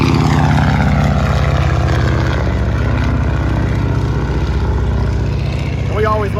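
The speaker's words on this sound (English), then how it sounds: "there goes a plane right there." A propeller plane passes over Cameron Airport, its loud, steady engine drone holding throughout with a faint rising whine near the end. Someone speaks over it.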